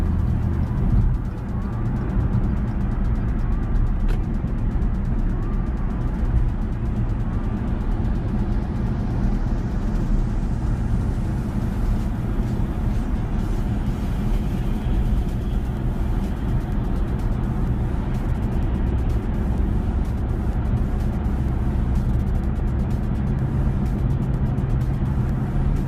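Car driving on a Korean highway, accelerating hard while changing lanes: a steady, loud engine and road drone with continuous tyre and wind noise, no talk.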